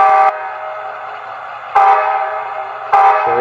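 Bachmann Charger model locomotive's sound decoder sounds a short horn: three loud, close, multi-tone electronic blasts in quick succession with a low idle hum between them, no voices.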